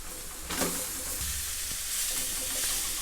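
Mashed jackfruit meets softened onions and oil in a hot pan, sizzling and hissing steadily with occasional stirring scrapes; no voices.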